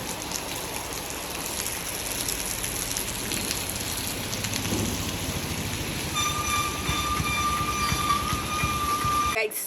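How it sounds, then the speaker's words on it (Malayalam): Light drizzle of rain falls steadily outdoors as a broad, even hiss across the whole stretch, with a faint tonal whine entering near the end. "ചെറിയൊരു മഴച്ചാറ്റലും കാര്യങ്ങളൊക്കെ ഉണ്ട്"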